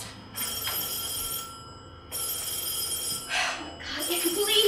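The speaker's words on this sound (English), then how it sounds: "Get away from that phone, Alice." An old-style telephone bell rings in a radio drama set in a hotel, loud bursts separated by short pauses, with a brief voice near the end.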